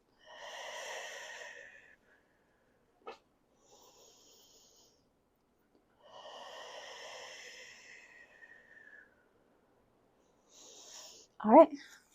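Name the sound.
deep breaths during a pilates stretch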